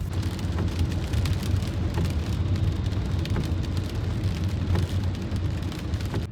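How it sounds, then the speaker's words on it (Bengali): Heavy rain pours steadily on surfaces, a dense continuous patter of drops with a low rumbling undertone, close and loud with no talking. "প্রচুর বৃষ্টি হচ্ছে, দেখবে এই দেখো বৃষ্টি হচ্ছে"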